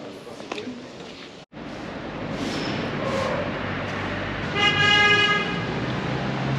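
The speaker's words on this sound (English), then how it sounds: "You can hear the cars." Busy street traffic in Naples near Corso Vittorio Emanuele, a loud steady roar of passing cars with a couple of horn toots, heard up close while a person speaks.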